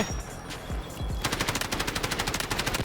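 Gunfire from an end-of-match gun in the shooter game Delta Force rings out as a few loud single shots, then a fast, steady automatic burst, close and dense, with no voices over it.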